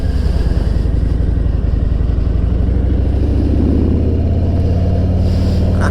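A motorcycle with a tractor-like engine accelerating on a freeway: loud, close, continuous engine roar with a throbbing low rhythm that climbs steadily, wind rush over it, no talk.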